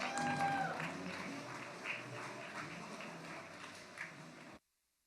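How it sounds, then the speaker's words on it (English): Applause at a marketing and analytics conference for a speaker from True Classic, a moderate spread of hand clapping that fades out and stops abruptly, with faint background noise. "Let's give her a big round of applause"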